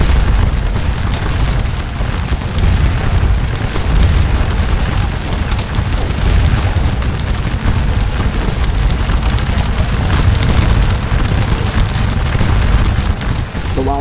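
Musket firefight in the Napoleonic battle game Scourge of War: Waterloo, a dense, continuous rumble of massed volleys and booms rolling on without pause, loud and close throughout.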